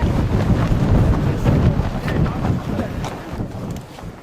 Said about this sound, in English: The wind picks up.